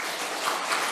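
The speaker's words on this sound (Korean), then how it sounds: "우리 박수 한번 보내주시기를 바랍니다" A church congregation applauds its choir during a Sunday worship service on the third Sunday of Lent, a brief steady wash of clapping from many hands with no voices over it.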